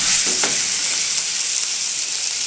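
Jack Daniel's whiskey poured all at once into a hot pan of foie gras, erupting into a loud, steady sizzling hiss that holds close and continuous with no talking.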